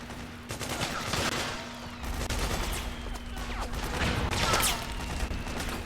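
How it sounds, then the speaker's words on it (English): Sustained gunfire from the Metal Gear Solid 4 battlefield, a steady crackle of distant rifle and machine-gun bursts layered over each other with no single shot standing apart, plus a low constant hum underneath. "Who's shooting at me?"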